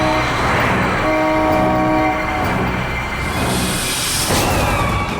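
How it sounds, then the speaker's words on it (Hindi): A car horn honks over and over in traffic, loud and close, mixed with steady road rumble; no one speaks. "हॉर्न पे हॉर्न मार रहा है।"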